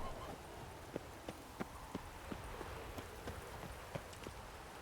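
Roach, the horse in The Witcher 3 video game, clip-clops along with a steady run of distinct hoof strikes over a faint background hiss, fairly close and moderately loud.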